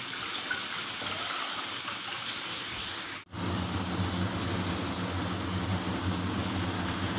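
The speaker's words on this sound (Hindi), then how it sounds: "और इसमें मैं डालूँगी 1 लीटर पानी।" Water pours steadily into a pan in a home kitchen, one litre in all, making a continuous loud rushing hiss that breaks off briefly once and then carries on.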